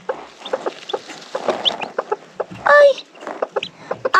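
Newly hatched chicks in a nest of eggs cheep with rapid, repeated high peeps close by. A woman's brief exclamation cuts in midway.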